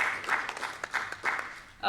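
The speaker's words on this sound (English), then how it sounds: "Let's give her a round of applause." Audience applause at a panel conversation on sexual harassment in the arts: a crowd's sustained, moderately loud clapping that dips and swells, then surges again near the end.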